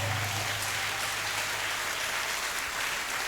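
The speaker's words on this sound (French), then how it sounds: "Et tu peux acclamer plus fort." A church congregation applauding and cheering at a prophetic harvest service, a steady dense roar of clapping that stays loud and even throughout.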